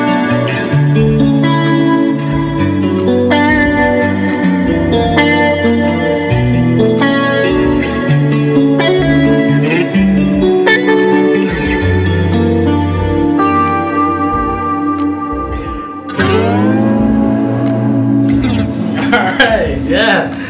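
Guitar chords ring out with a lush, washy reverb and chorus shimmer, strummed in a slow progression, loud and close.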